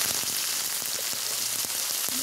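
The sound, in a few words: cumin, cinnamon and cardamom frying in oil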